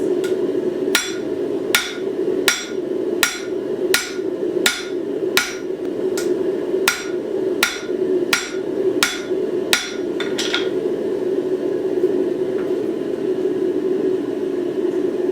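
Hammer blows ring out during forging work with tongs, about a dozen sharp, loud metallic strikes in a steady rhythm over a constant low hum, then the blows stop and only the hum remains.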